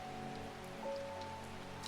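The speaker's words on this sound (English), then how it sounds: "it's actually raining in real life" Rain falls outside as a soft, steady patter on surfaces, faint and continuous, while a few sustained game-like tones sound over it; nobody speaks.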